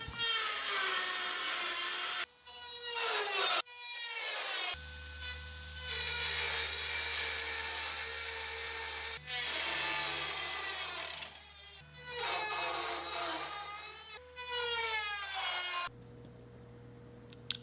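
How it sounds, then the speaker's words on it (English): Dremel rotary tool cutting the inner sheet metal layer on the back of a car hood, a loud high-pitched grinding whine in repeated bursts with rising and falling pitch, broken by short pauses and ending abruptly. "I came to the back of the hood with the Dremel to remove all of the second sheet of sheet metal."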